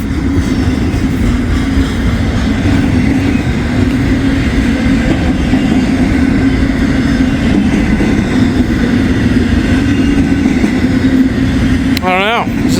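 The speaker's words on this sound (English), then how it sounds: "I always like seeing the BNSF." A BNSF freight train hauling long rows of JB Hunt containers rumbles past with a loud, continuous roar and steady rail noise, while a short squeal rises near the end.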